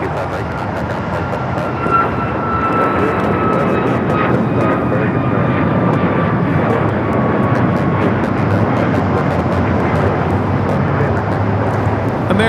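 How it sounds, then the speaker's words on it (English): An American Airlines Boeing 737 MAX 8 jet takes off at LAX, its engines a loud, steady, broad roar with a faint whining tone that holds for the whole stretch, heard from a spotting position. "1979 taking off to Chicago on the MAX 8s"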